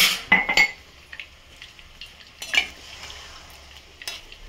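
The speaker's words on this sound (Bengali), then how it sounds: "আমি ঠান্ডা জলই দিয়ে দিলাম" Cold water splashes into a pan of frying jackfruit and potato curry, a short burst of pouring and sizzling followed by the clink of a spoon stirring against the pan and quieter bubbling.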